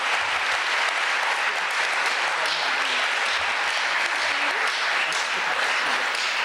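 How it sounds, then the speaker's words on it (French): Sustained applause from a gala audience at a Quebec business awards ceremony, a thick, continuous patter of many hands with faint voices mixed underneath. "Ben oui, on applaudit, voyons."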